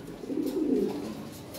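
A Lahore pigeon gives one soft, low rolling coo lasting under a second, close by and fairly quiet.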